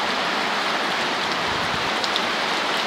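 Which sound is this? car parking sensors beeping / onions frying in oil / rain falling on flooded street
rain falling on flooded street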